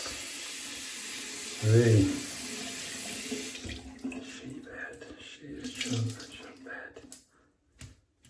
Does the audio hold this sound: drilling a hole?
no